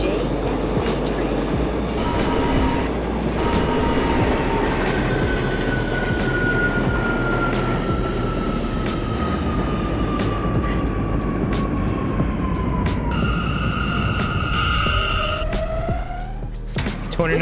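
Subway train running in the OpenBVE train simulator game on a southbound Broadway local run at Myrtle Avenue, a steady loud rumble with rising and falling electric motor whine throughout, and a brighter tonal whine near the end.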